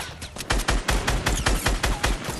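Fortnite gunfire, a close, loud burst of about a dozen rapid evenly spaced shots with no talk.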